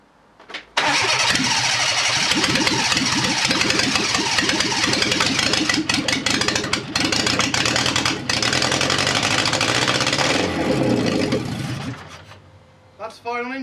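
A Fiat Panda 4x4 project car, running poorly with a fuel delivery fault, cranks and catches. It runs loud, rough and uneven, stumbling and surging for about ten seconds, then cuts out, with brief talk nearby.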